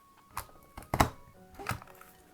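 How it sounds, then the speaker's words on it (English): A planner hole punch presses through a taped vellum sheet in a few sharp, close thunks and clicks, scattered over a couple of seconds in a quiet room. "we're gonna punch the side that we taped"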